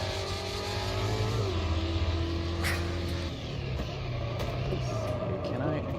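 Trophy truck in the Automobilista 2 racing game roars over dirt, engine revving and shifting with gritty rumble underneath, while someone talks over it throughout.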